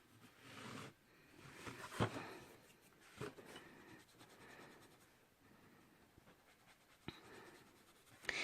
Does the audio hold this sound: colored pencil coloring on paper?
yes